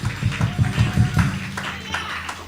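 Church congregation clapping in steady rhythmic beats at a worship service, moderately loud, with voices sounding alongside and the clapping fading out near the end.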